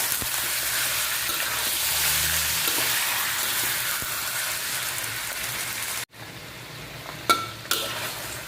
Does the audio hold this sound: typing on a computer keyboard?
no